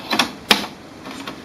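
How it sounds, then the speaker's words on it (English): Plastic printhead access door on an HP ink tank printer being shut, two quick clicks followed by a sharper snap, then faint rattling as it settles. "close the printhead access door"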